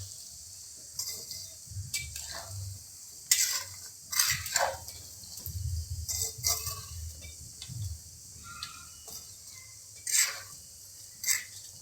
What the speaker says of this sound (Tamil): இப்போ இது நல்லா கலக்கி விடலாங்க